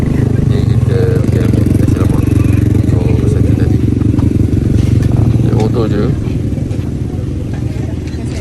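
Motorcycle riding in Malaysia, a constant close engine drone and road rumble with some rattle, loud and steady, with someone talking over it.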